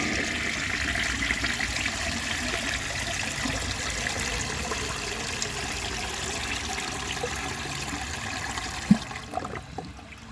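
A 1948 Kohler Brooklands toilet flushing a dish towel, a loud continuous rushing and gurgling of water close by that drops off abruptly near the end with a brief clunk.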